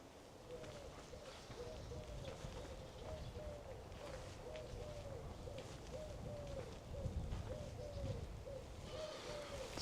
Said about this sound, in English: Collared doves.